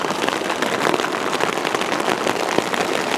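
Dense, steady patter of rain striking the taut fabric of an Outdoor Research Advanced Bivy shelter close by, a constant crackling hiss with scattered sharper drops.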